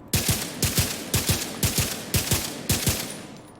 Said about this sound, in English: I'm going to shoot without staying in cover to see, and then shoot while in cover to see the difference on the stability.